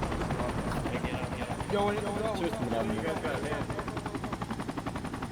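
Steady helicopter rotor drone from the game Project Reality (Battlefield 2), continuous throughout, with voices talking over it and some faint popping bursts.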